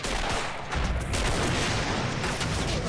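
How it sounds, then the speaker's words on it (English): A dense roar of battle in a World War II strategy game, with rocket launcher fire from a Panzerschreck amid continuous explosions and gunfire, loud and filling the whole moment. "Good shot from the Panzerschreck there"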